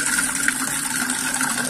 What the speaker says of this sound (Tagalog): So maglagay lang po tayo ng tubig.